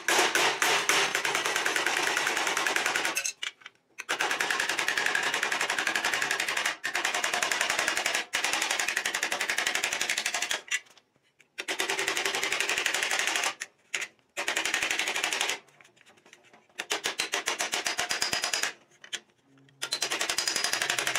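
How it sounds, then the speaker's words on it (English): Rapid metallic hammering on a bucking bar, tapping down an existing metal flange: dense runs of sharp, close, loud strikes in bursts of several seconds, separated by brief pauses. "so I'm going to line up that existing flange and try to tap that down."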